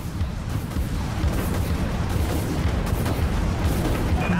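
Missiles launching during a spaceship battle in the Dreadnought video game, a dense, continuous roar of booming launches and blasts at steady loudness throughout, with no talk.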